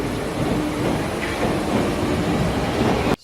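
A Paris subway train runs steadily close by, a loud continuous rumble and rattle of wheels on rails that cuts off abruptly at the end.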